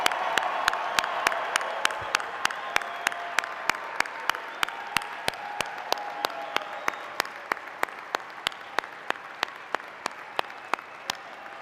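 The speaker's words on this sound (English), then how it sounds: "please join me in one more round of applause in recognition of these outstanding graduates and their achievement today" A large audience at a university fall commencement ceremony applauds graduates, continuous dense clapping with some crowd noise, punctuated by regular sharp beats roughly every third of a second throughout.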